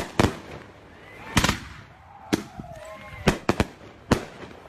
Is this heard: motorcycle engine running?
no